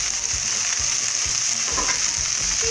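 Smoked bacon sizzles and fries steadily in a pan for a turkey stuffing, a loud continuous crackle with soft stirring knocks and scrapes underneath, no talking.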